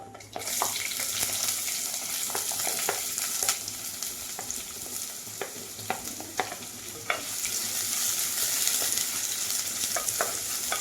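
Onion added to hot coconut oil with fenugreek seeds and dried red chilies for a bitter gourd masala curry, crackling into a dense, steady sizzle with scattered spatula scrapes, close and loud, no talk.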